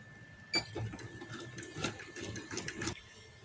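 A sewing machine stitches along a lace strip on palazzo pants, a soft close whirring run of needle clatter lasting a few seconds.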